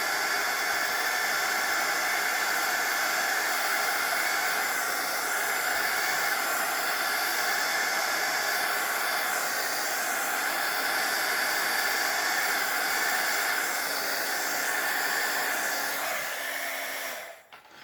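A hair dryer blows hot air steadily to dry stamped ink on a sheet of vellum, a close, constant whooshing roar that runs unbroken and then cuts off abruptly at the very end.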